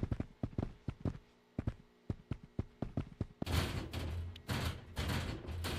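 Gunfire in the video game Backroom Company comes as a quick run of sharp, separate shots, then a denser, louder burst of rapid fire.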